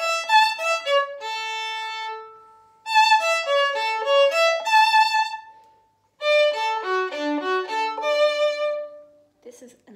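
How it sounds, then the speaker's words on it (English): An instrument plays clean, ringing arpeggios, notes rising and falling one after another in three short phrases separated by brief silences. "Arpeggios have a sound like this."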